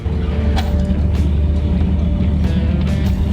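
A boat engine on an Amsterdam canal throttling up, a steady low rumbling drone held loud and close throughout, with faint clicks and knocks over the top.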